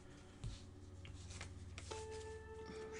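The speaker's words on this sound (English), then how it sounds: "Shuffling these up real quick." Playing cards for the tabletop game Eminent Domain are shuffled at the table, a faint riffle and soft shuffling close up over a quiet room hum.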